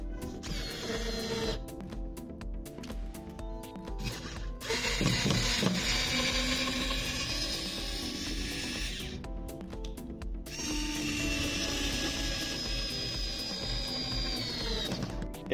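A Total 8V cordless screwdriver drives a screw in several whirring bursts with short pauses between them, close and fairly loud, a steady mechanical buzz with no talk.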